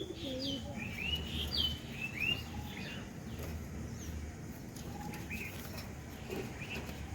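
Pigeons at a bird market give soft calls and wing flutters, mixed with scattered bright chirps over a low, steady background hum.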